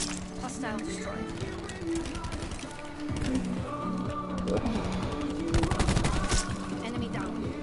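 Rapid gunfire in a first-person shooter game, repeated bursts of automatic fire and single shots spread over several seconds, loud and close, with game voice callouts and talk mixed in.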